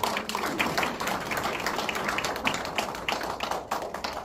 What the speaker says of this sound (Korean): 오늘 그 식전 행사 그 멋지게 우리 그 구성해 주신 우리 두 분께 다시 한번 박수 주시죠